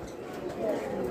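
Pigeons coo at a busy pigeon market, a soft, low warble running under a steady crowd murmur and nearby voices.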